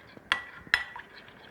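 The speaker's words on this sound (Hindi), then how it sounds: "इसको बहुत ही अच्छी तरीके से आपने मिक्स कर लेना है, तमाम इंग्रेडिएंट्स" A spoon knocks twice against a bowl while homemade herbal cream ingredients, including rice milk, are mixed, two bright clinks over a faint soft stirring background, quiet and without speech.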